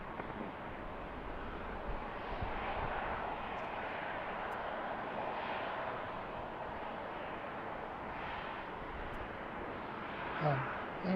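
Heavy transport jet taking off from a departure runway at BWI airport, a distant broad engine roar holding steady and slowly swelling, with wind buffeting on the microphone and faint voices in the background.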